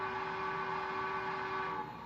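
A steady, sustained model train locomotive whistle tone holds for about two seconds, then fades, with no talking.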